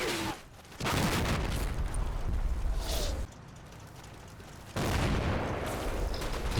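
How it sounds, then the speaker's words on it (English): An artillery barrage rains down in the Combat Mission game during a WWII Operation Epsom battle on the road to Cheux. Two long stretches of dense, rumbling shellfire roar loudly, split by a quieter pause. "Despite the short range, the barrage is not that accurate."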